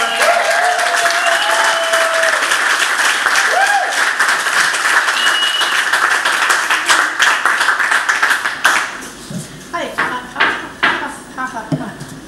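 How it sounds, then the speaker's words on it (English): Enthusiastic applause from a literary reading audience, dense and loud at first, then thinning into scattered claps that fade out toward the end. "Let's give her a big round of applause."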